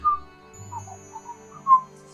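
A character in the video game Broken Sword: Shadow of the Templars whistles a short little tune, a few clear rising and falling notes heard alone over a quiet background hum.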